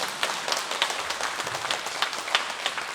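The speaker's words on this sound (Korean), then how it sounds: "박수 한번 쳐요." A church congregation claps briefly during a sermon, a light, scattered patter of many hands heard at moderate distance.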